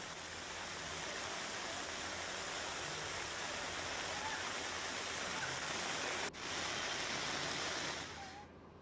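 Steady, dense roar of heavy monsoon rain pouring down on a flooded village, continuous and loud with no voices, briefly dipping near the end.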